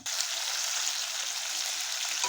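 Cumin seeds, dried chili and bay leaf sizzle in hot oil in a wok, a dense, even crackling hiss close by that holds steady throughout.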